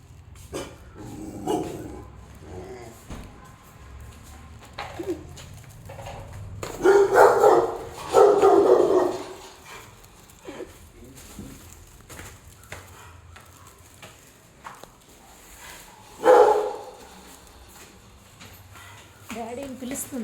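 A dog living below a house barks loudly in a few short bursts, with background household noise and someone talking.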